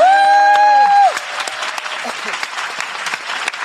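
After a sustained held tone cuts off, scattered applause breaks out from a live stage show audience, a moderate crowd clapping steadily at middle distance.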